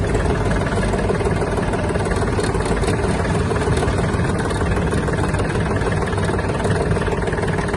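A Kubota L1-185 compact tractor engine runs steadily in reverse with a low, even rumble, continuous throughout with no voices.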